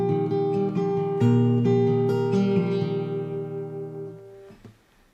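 Fingerstyle acoustic guitar playing a song's melody over a plucked bass line, clear sustained notes picked in a gentle steady rhythm that rings out and fades.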